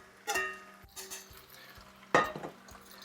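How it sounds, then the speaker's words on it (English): Potatoes with garlic and bacon hit a preheated skillet and sizzle, with two bursts of frying hiss as ingredients land, light clinks of the pan and utensils, and a steady low crackle between, with no talking. "You can hear it start to sizzle."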